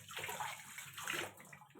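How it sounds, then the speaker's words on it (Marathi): Tap water runs steadily while hands are washed in a home kitchen, a soft continuous splash with slight sloshing changes, faint and close, no voices. "हात धुवून घेते आता."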